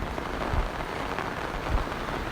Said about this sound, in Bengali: এখনও প্রচণ্ড পরিমাণেই বৃষ্টি হচ্ছে, একটু বৃষ্টি কমেনি।